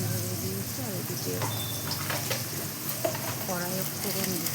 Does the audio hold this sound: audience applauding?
no